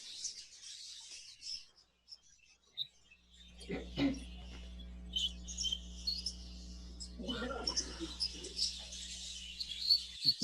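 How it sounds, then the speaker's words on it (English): Budgerigar chicks in an exhibition aviary give thin, high chirps and squeaks, mostly close, scattered across the whole stretch over a low steady hum, with a few brief sounds that may be a person. "It's a baby bird."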